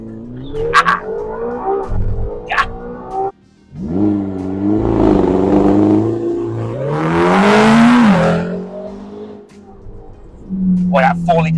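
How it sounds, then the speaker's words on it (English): A 2023 McLaren GT with a 4-litre turbocharged engine launches hard from a standstill, the engine note rising through rapid upshifts in loud, surging sweeps, while a voice talks over the start and end. "I'm gonna just stomp the brake, push launch."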